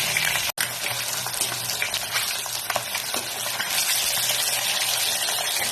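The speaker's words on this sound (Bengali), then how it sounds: "হালকা লাল করে ভেজে নিচ্ছি" Pieces of katla fish sizzling in a pan of oil, a dense, loud, continuous crackle close by with a brief dropout early on, heard alone without speech.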